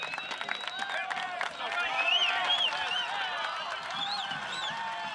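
A soccer stadium crowd in the Valley of the Sun cheers and shouts steadily, with whistles and scattered calls rising above a continuous roar, while a commentator talks over it.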